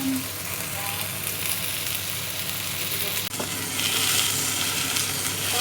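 Chicken pieces frying in a pan, a steady loud sizzle that runs throughout with a brief stir or clatter partway through.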